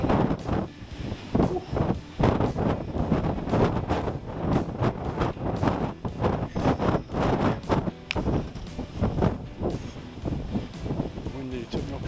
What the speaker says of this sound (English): Windy, took me off my feet.